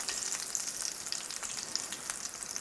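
Upstream-migrating monsoon fish, caught by hand, fry in a pan with a quiet, steady crackling sizzle and fine popping, heard alone at close range.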